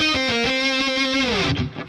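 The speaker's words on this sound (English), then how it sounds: "With my Boss Katana, I'm using the pitch bend pedal effect" An electric guitar through a Boss Katana amp with an octave-up pitch shift effect layered on the dry signal plays a sustained, bright distorted note with a few picked attacks, then a slide down as it cuts off.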